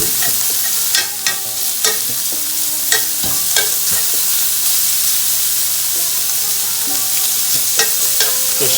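Bacon sizzles loudly in a pan while being spread out, a continuous crackling fry broken by repeated scraping and clinking of a utensil against the pan.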